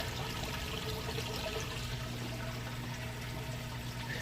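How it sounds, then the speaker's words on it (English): A four-year-old Samsung HE washer drains water during its rinse cycle, a steady rushing, gurgling flow with a low pump hum underneath, continuous and even throughout. "You can hear it draining that water out nice and fast."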